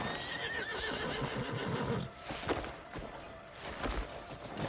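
A horse in the video game Crimson Desert whinnies loudly and close, with clip-clopping hooves and rustling movement continuing around it.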